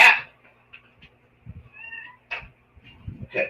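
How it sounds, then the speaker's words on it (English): A house cat meows close by in several short calls with quiet gaps between them, alone with no one talking. "Ah, cat."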